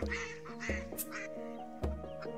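A duck quacks repeatedly and close by, giving several nasal, buzzy calls in an uneven rhythm that stand out clearly, with no talking over them.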